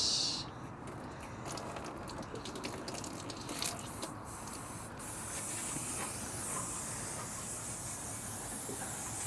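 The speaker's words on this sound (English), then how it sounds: "So now I'm going to rinse." Water sprays and rinses over a stainless steel boat helm wheel being cleaned of rust, a steady broad hiss that continues throughout and grows slightly fuller partway through, fairly quiet and with no talking.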